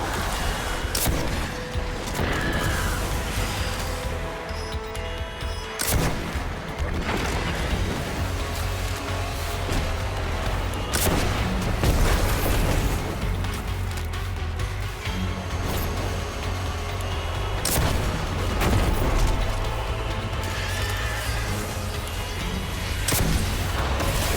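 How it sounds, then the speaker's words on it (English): Rocket launcher fire in the Destiny 2 Witch Queen campaign, repeated booming blasts and explosions at irregular intervals over a dense, continuous game soundscape. "we'll have to get our rocket launcher out here"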